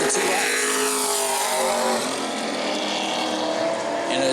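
Pro race truck number 35 roaring through a qualifying lap at New Smyrna, a loud, sustained high-revving engine wail that slides lower in pitch as it passes, with no talking.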